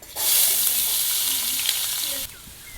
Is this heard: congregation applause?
no